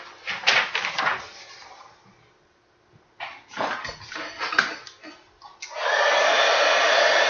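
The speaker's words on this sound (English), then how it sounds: "I'm going to use the heat tool." A heat tool drying wet ink, a steady loud blowing whir that kicks in after some clattering and handling noises, close up.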